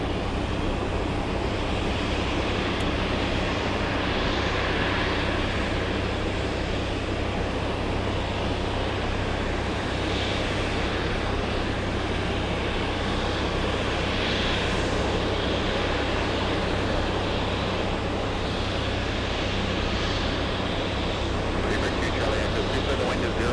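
A passenger airplane takes off at night at Boston Logan International Airport, its engines a continuous heavy roar that holds steady throughout, with faint voices underneath.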